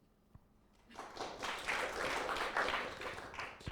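An audience breaks into applause after a second of near silence, a moderate burst of many hands clapping that holds steady, heard from a short distance in a hall.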